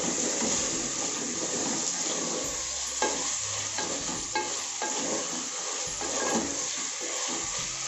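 Tomatoes fry in a pot for goat biryani, sizzling steadily up close while a spoon scrapes and stirs them in repeated strokes.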